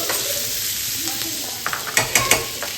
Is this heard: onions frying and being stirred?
yes